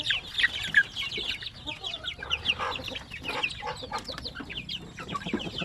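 Basilan and Zampen native chickens cluck and chatter in a pen, several birds overlapping in a steady, busy stream of short calls at close range with no talk.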